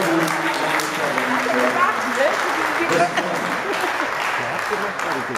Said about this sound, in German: Nochmal hier Applaus für die beiden Jungs,